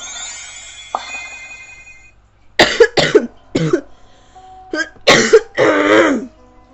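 A few sharp coughs and throat-clearing bursts come in quick succession, close by, after a quiet stretch with a faint clink.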